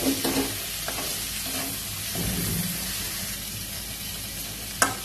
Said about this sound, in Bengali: চিনি দিয়ে একটু নেড়ে দেবো।